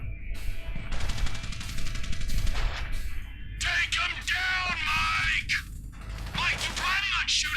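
Video game gunfire in GTA V: rapid bursts of shots and metallic mechanical clatter, with a talking voice over the shooting.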